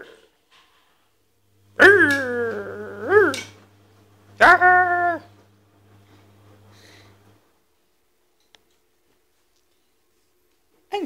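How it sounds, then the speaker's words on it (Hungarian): Several small dogs give a few whining, howl-like yelps close by, two longer cries and a shorter one, separated by near silence and faint shuffling noises. "Jaj, ennyi kutya!"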